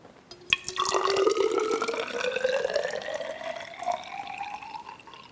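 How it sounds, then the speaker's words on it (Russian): Water pours from a glass into a measuring cylinder in a lab, a close trickling stream whose pitch rises steadily as the cylinder fills, starting with a sharp splash and running continuously. "Вынимаем стакан и выливаем воду в мерный цилиндр."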